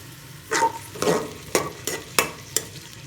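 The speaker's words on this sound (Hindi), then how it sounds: "प्याज को मैं ब्राउन होने के लिए छोड़ दूंगी।" Onions frying in oil until browned, a low steady sizzle broken by five or six sharp scraping strokes of a spoon against the pan, close and fairly loud, with no voices.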